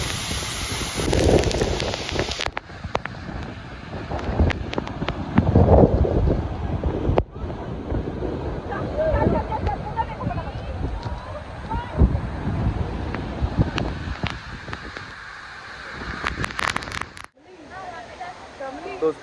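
Harvalem waterfall in Goa roaring in a steady broadband rush, buffeted by heavy wind noise on the microphone with loud gusts, while someone talks over it.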